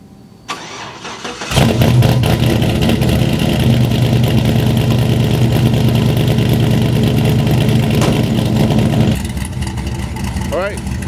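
A Chevrolet C10 truck engine cranks briefly, then catches and settles into a loud, steady, rumbling idle close by, easing slightly quieter near the end.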